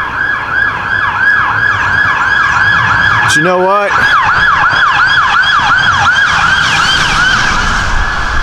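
A loud emergency siren wails in a rapid rising-and-falling pattern, close and continuous, with someone briefly speaking over it midway.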